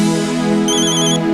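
A telephone rings indoors with a loud, close electronic ringtone: a sustained tonal ring with a brighter high chiming layer joining partway through, heard alone without talk.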